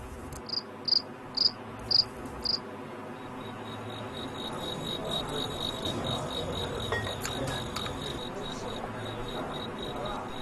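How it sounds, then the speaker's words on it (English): Five loud, evenly spaced chirps from a victorious cricket rubbing its wings at a cricket fighting competition ring out close by, followed by a fainter continuous trilling over a low background murmur. "The winner of a battle makes a chirping sound by rubbing his wings together in triumph."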